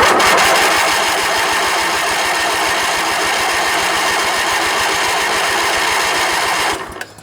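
A vintage 20 HP Briggs & Stratton twin-cylinder engine on an old green Craftsman riding mower cranks over steadily with a loud rhythmic starter churn for several seconds, then cuts off abruptly near the end without firing.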